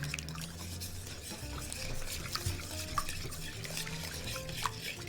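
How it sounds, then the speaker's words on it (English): A whisk beats eggs and sugar in a bowl until frothy, making quick, soft, continuous stirring and clinking sounds that stay fairly faint and close. "I'm just going to whisk it up until it gets frothy"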